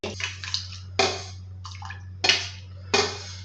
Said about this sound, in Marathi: हे बघ, मी टॅमॅटो टाकते